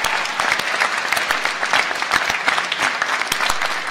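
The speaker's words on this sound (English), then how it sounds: "give a massive round of applause to your supporters, your families, and your friends" A room full of people at a university graduation ceremony clapping steadily, dense and lively applause sustained from start to finish with no speech over it.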